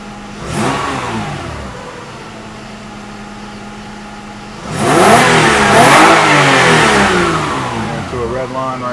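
A 1994 Toyota Camry with the 3.0L 1MZ-FE V6 idles, then is revved hard toward redline in a loud, sustained climb that holds high before easing off.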